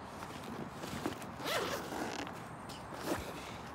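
A zipper on clothing is pulled in a few quick rasping runs, close and fairly quiet, with short gaps between the strokes and no speech.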